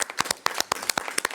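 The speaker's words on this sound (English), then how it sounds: "Let's give her a round of applause." A short burst of hand clapping from a small group at a school board meeting, sharp individual claps spaced unevenly and fairly close, with no talking over it.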